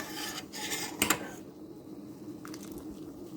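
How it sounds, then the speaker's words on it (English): A spoon stirs thick grits bubbling in a pot, making a steady close rasping, scraping rub with a few sharper scrapes partway through, heard alone. "I'm just going to sit here and just kind of stir it."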